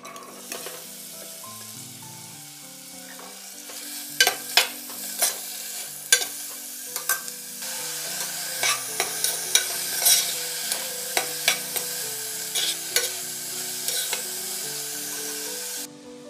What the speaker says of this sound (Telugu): ఇప్పుడు దీనిలో మనం కట్ చేసి పెట్టుకున్న ఆనియన్, గ్రీన్ చిల్లీస్ వేసి వేయించుకోవాలి.